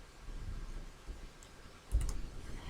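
A few quiet computer mouse clicks while selecting the rotate tool in PowerPoint, faint and close, with a small cluster of clicks near the end over low background hiss.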